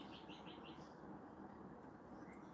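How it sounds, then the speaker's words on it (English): Lorikeets, parrots and other colourful birds calling together in the early morning, faint chirps and repeated short calls layered over a constant low background hum. "mostly what you can hear, I think, are like lorikeets and parrots and like pretty rainbow birds"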